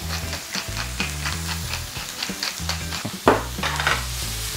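A wooden spoon stirs oyster mushrooms with salt and pepper in a sizzling pan, giving repeated scraping strokes and knocks over a steady frying hiss, close and without talk.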